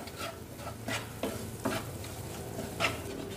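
Corned beef croquette filling with added spices being stirred in a pan, with four or five distinct scraping strokes of a utensil over a soft, steady sizzle and no voices.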